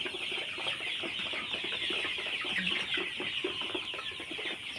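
Sonali chickens cluck on a poultry farm, a flock of soft repeated clucks and murmurs at close range over a steady background, no speech.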